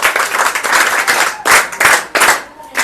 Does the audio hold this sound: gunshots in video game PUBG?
no